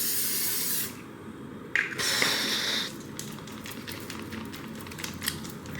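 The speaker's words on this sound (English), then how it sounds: "Using the L'Oreal Infallible 3-second setting spray" L'Oreal Infallible 3-second setting spray hisses out of its pump bottle in a few short, close bursts. The longest burst comes right at the start, and quieter rustling follows between them.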